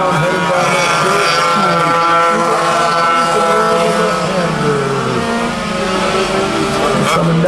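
Vintage Sidewinder racing karts on a track with a horseshoe turn and a dirt section, their small engines droning and whining steadily as they run past in a tight pack, loud and continuous, with an announcer calling the race over them.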